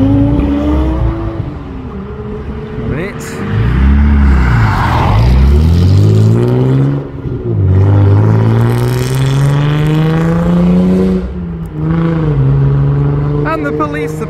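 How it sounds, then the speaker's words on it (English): Boosted Mini car leaving a car show, engine revving hard through rising and falling pitch sweeps as it accelerates away, loud and close with strong whooshing throttle blips. "And time now for a boosted Mini."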